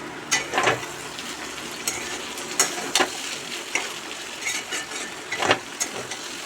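Food fries in a covered pan on a home gas stove, a steady soft sizzle broken by sharp crackles and pops that recur every second or so, close and moderately loud.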